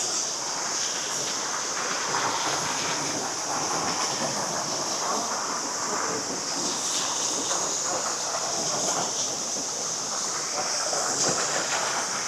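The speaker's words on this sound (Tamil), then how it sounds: "நல்லா அருமையான தண்ணி போகுதுங்க." Water rushes at Sambalaru Falls in the Kurangani Hills near Theni, a dense, continuous roar that holds steady and fills the scene without any speech.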